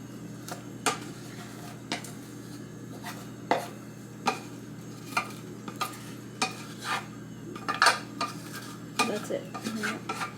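Cooked rice for pilau is spread in a pot with a spoon, giving sharp, irregular metallic clinks and scrapes over a low, steady background hum.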